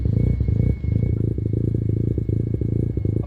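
A restored turbocharged Mazda FC RX-7 engine idles steadily close by while warming up, a low rumbling chug with a faint rattle and a brief dip in level partway through.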